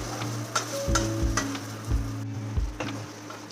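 Neem leaves and eggplant fry in a pan with a steady low sizzle, broken by several distinct scrapes and knocks of a spatula stirring them at irregular intervals; no one speaks.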